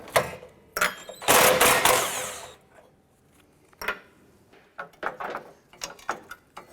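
Tool work removing a 10mm bolt from a 2009-2015 Honda Pilot during an A/C condenser replacement: a loud burst of rapid ratcheting and metallic clatter, then scattered clicks and clanks close by, no talking.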